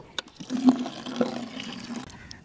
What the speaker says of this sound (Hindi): चला के दिखाएं नलका, वज़ू करें बच्चे यहाँ से।